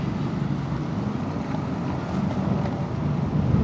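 A JUPITER e-Mobility electric scooter on a city test drive in Tagum City, heard as steady rushing wind and road noise that stays loud and constant throughout, with no voices.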